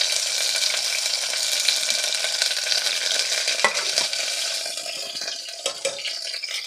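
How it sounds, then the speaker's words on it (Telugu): Mustard seeds, cumin, green chillies and chopped onion sizzle loudly in hot oil, a steady dense crackle that thins out near the end as a few stirring scrapes come through. "ఆయిల్ హీట్ అయ్యాక ఇందులోకి ఆవాలు, జీలకర్ర, అలాగే 2 పచ్చిమిర్చి, 2 ఆనియన్ని చిన్నగా కట్ చేసుకొని వేసుకోవాలి."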